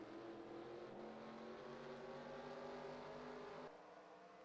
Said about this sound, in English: You heard the command to fire the engines.